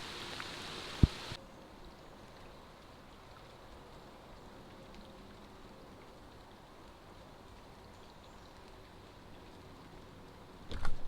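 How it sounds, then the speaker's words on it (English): Steady rain falls during a fishing trip, a soft continuous patter on the water and surroundings that lasts throughout, with a brief knock near the start and rustling at the end. "It was pretty hot, so I don't mind a little bit of rain."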